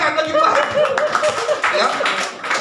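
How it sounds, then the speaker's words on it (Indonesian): Audience clapping at a church theology talk in Indonesia, a brisk patter of hands mixed with chatter and light laughter, steady and fairly close for a couple of seconds. "Tepuk tangan lagi Pak."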